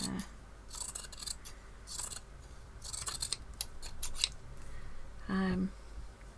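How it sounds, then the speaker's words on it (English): Scissors snip through elasticated smocked fabric in short bursts of crisp cuts, close up, with a brief voice partway through. "I thought if I cut that along there,"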